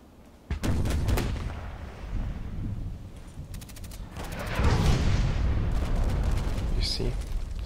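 Mortar explosions in an online shooter video game, with a sudden loud blast followed by rumbling booms and crackling gunfire echoing in the background while a voice talks over the action.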